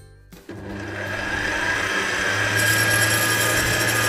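A kitchen stand mixer starts up to knead cougnou dough with eggs just added, a brief knock followed by a steady, rising mechanical whir and grind that runs continuously at close range.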